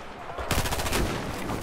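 A shotgun in the video game Battlefield 4 goes off with a sudden loud blast about half a second in, followed by a dense, sustained wash of gunfire noise.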